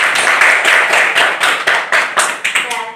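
Classroom applause from students, a dense run of overlapping hand claps with steady rhythmic peaks that fade toward the end.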